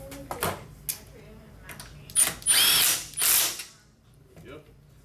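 A nut is run down by a ratchet during installation of a 40/20/40 driver seat in an extended-cab 2001-07 Ford F-250/350 truck, with a few clicks followed by two loud bursts of mechanical whirring close by.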